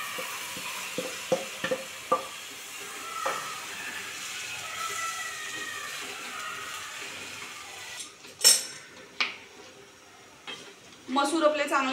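Soaked whole masoor lentils stirred into a hot spiced oil tempering in a pan, giving soft sizzling and scraping with a few sharp clinks of the spoon against the metal pan, close and moderately quiet.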